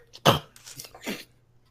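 A person coughs in a crowd, with one sharp loud cough followed by a couple of softer, rougher coughs, close and alone.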